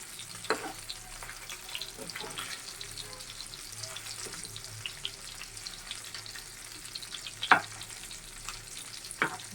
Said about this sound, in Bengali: কড়া করে এটাকে বাজবো মাছটা আমার যে বাজা হয়ে গেছে